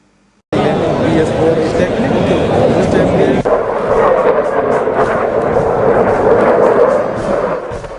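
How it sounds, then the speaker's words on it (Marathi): Continuous heavy rumbling roar of artillery, rockets, tank fire and gunfire at the K.K. Range military demonstration, loud and sustained for several seconds after a sudden onset, with a sharp blast midway. "रॉकेट्स, महाकाय रणगाडे आणि तोफांचा मारा"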